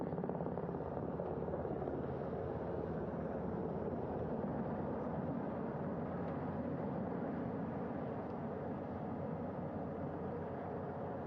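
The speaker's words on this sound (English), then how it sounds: "The first helicopter coming in." A loud, steady helicopter rotor roar fills the air as the aircraft comes in close to land on a ship, with a constant heavy throb and no voices.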